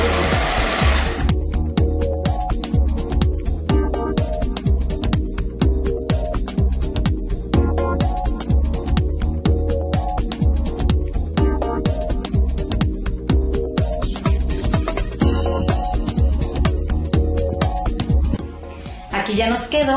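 A sewing machine runs steadily, zigzag-stitching hemp thread along the edge of fabric, with a fast, even mechanical chatter that continues almost without pause and stops briefly near the end.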